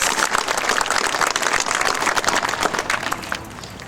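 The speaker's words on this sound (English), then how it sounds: "So let's give Bob one more round of applause." At an opening event, a crowd gives a dense round of applause that holds steady for several seconds before beginning to thin out.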